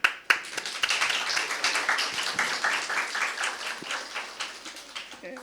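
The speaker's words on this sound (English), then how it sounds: "Yo daría un aplauso a las mujeres." Audience applause at a dialogue session with a peace march delegation, a sharp burst of clapping that sustains as steady, moderately loud claps for several seconds.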